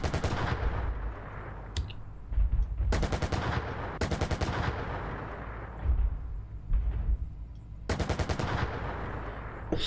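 A tank gun fires high-explosive rounds in the tank game GHPC, with several loud, booming shots at irregular intervals, each followed by a rumbling tail, heavy and close with no speech.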